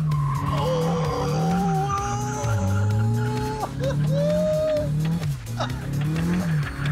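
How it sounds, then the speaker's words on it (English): A car kicks its rear out in a handbrake turn, tyres squealing and skidding loudly through most of the stretch, the screech rising and falling over a strained engine, with voices talking underneath. "Handbrake and it kicks out the back ass of the car."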